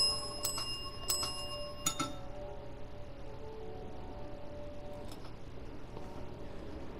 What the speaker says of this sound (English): Sorry, I just like to ring bells.